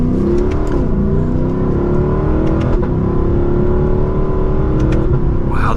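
Naturally aspirated V8 of a 2024 Lexus LC500 revving loudly and close, several sharp throttle blips rising and falling over a steady idle, with no talking.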